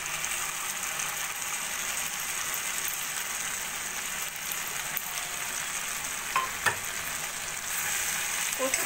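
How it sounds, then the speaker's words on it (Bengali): Okra cooking in a pan with salt, turmeric and a paste of poppy seeds and cashews, making a loud, steady frying sizzle with occasional stirring clicks and no speech. "পোস্ত কাজু বাটা মিশিয়েও আরও 2-3 মিনিট মতো ভাজা ভাজা করে নেব।"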